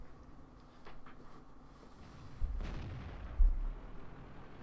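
Tank cannon fire in the World of Tanks video game: two heavy low booms about a second apart over a quiet engine rumble, the second one sharper and louder, no talk.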